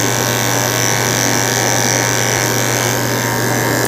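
Small electric clippers buzz in a steady, close, continuous drone as they shave fur on a tiny Yorkie during grooming.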